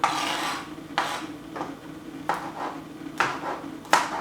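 A kitchen knife cuts fresh purple okra into thin slices on a board, giving five separate crisp chopping strokes spaced about a second apart, close and clear with no talk.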